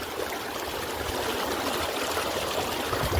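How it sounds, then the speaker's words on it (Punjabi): Irrigation water runs steadily into a maize field, a soft continuous rushing and trickling at low level with no break and no voices. "ਪੈ ਰਿਹਾ ਪਾਣੀ ਮੱਕੀ ਨੂੰ ਇਧਰਲੇ ਪਲਾਟ ਨੂੰ"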